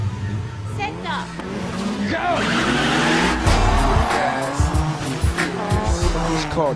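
A car drifting with loud tire squeal and engine roar, skidding sounds rising and sweeping past nearby, with a voice talking over it.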